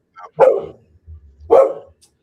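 A pet dog barks indoors during a record collector's home livestream: two loud, close single barks about a second apart, with a low rumble between them and no talking.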